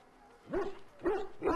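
A Mabari war hound in the game Dragon Age: Origins gives three short, gruff barks at an even pace, close and clear against a quiet background.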